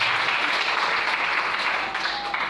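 A church congregation applauding, a dense, steady wash of clapping that holds evenly from start to finish.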